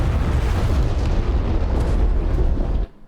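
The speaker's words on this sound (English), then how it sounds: "There they go, they're starting to shoot." Continuous heavy rumble of artillery fire in DCS Combined Arms, dense and booming for almost three seconds before cutting off abruptly into quiet.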